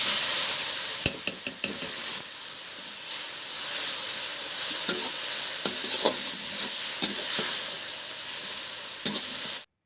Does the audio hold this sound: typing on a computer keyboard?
no